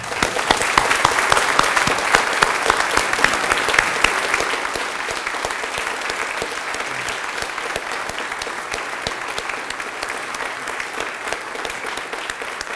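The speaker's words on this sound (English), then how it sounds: "Let's give a round of applause and welcome Reverend Tom Kimball and Mrs. Kimball." A congregation applauds to welcome Reverend Tom Kimball at a church tenth-anniversary service, dense sustained clapping from a large crowd, loudest at first and then settling into a steady even roar.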